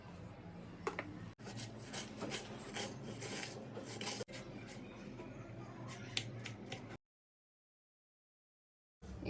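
A knife slices through vegetables on a cutting board for an egg sandwich, quiet rapid scraping and chopping strokes in short bursts, then a sudden stretch of silence.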